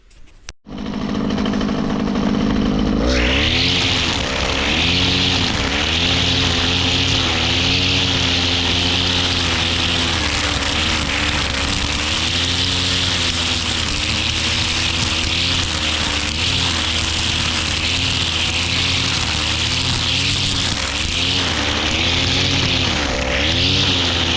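A string trimmer (rotofil) spinning nylon line cuts brush in a field, starting up and then holding a loud, steady high-revving engine whine with slight load changes as it bites into vegetation.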